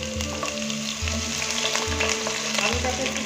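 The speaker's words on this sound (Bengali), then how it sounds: "আলুটাকে একটু ভেজে নেবো।" Potato pieces frying in hot mutton fat with dried red chillies in a pan, a loud continuous sizzle with a pulsing low rumble from stirring throughout, no talk.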